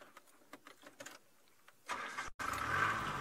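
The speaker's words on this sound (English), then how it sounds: "it's always important to start the car, let it run for a few seconds" A safari vehicle's engine is started outdoors: light clicks and mechanical ticks, then the engine cranks and catches into a close, steady running rumble.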